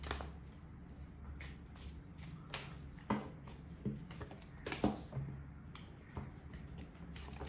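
Soft, papery riffling and flicking of tarot cards being shuffled, close by, with irregular taps and rustles throughout.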